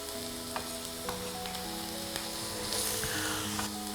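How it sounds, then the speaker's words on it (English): Chopped onions dropped into hot oil in a pot give a loud, steady sizzle and crackle throughout, with light stirring clatter and a brief swell of hiss near the end. "My pot has hot oil in it. I quickly add the onions."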